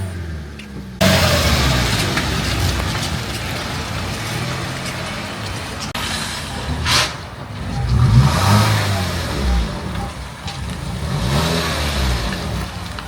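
A repaired car's engine, fixed after it previously would not rev, idles then revs up in several loud rising pulls, the strongest around the middle, with no talk over it.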